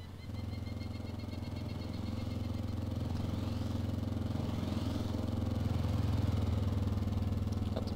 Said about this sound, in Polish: O, jakiś gościu na motorze.